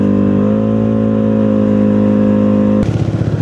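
A vehicle engine, kept idling because it is hard to restart, runs steadily while driving through Bay Clark with a loud continuous hum, turning rougher and more sputtering near the end.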